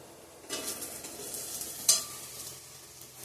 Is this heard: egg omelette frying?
yes